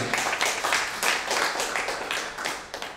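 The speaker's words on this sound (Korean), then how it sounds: "격려의 박수 부탁드리겠습니다" Dense applause from a crowd at a newspaper anniversary ceremony, steady and fairly loud throughout with many overlapping claps.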